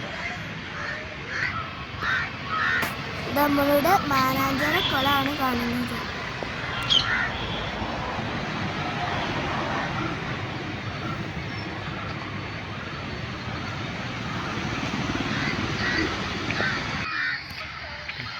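Crows caw repeatedly from the trees of Mananchira park in Kozhikode, Kerala, mixed with other birdsong and a low rumble of city traffic. A person speaks over part of it.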